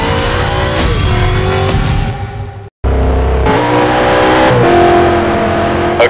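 A race car in the video game Need for Speed Shift revs hard, loud and close, engine pitch climbing through gear changes, cutting out briefly mid-way before roaring back up again.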